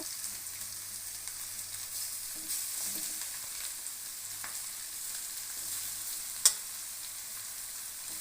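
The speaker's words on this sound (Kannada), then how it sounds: "ಬೇಯಿಸ್ಕೊಂಡಿರೋ ಸೊಪ್ಪನ್ನ ಈಗ ಈ ಒಗ್ಗರಣೆ ಒಳಗಡೆ ಹಾಕ್ಬಿಟ್ಟು ಮಿಕ್ಸ್ ಮಾಡ್ಕೋಬೇಕು" Cooked greens stirred into a hot tempering of dried chilli and onion in a village-style kitchen, a steady low sizzle with soft scraping and one sharp clink near the end, no voices.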